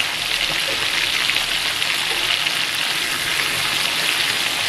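Tomato sizzling and frying in a pan over a gas flame, a steady loud broadband crackle with fine spitting textures running continuously throughout, no voices.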